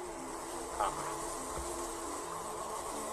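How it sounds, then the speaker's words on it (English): Honeybees buzz around a honey tree outdoors, a continuous dense insect drone holding steady throughout with no break. "There should be honey here because there's honeybee"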